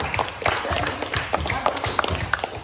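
A class claps for group one, with uneven, loosely overlapping hand claps in quick bursts from a small group. The clapping sounds close and fairly loud for its brief few seconds.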